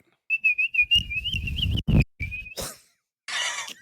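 A person whistles a wavering, vibrato-laden tune up close in short phrases, ending with a couple of brief noisy bursts.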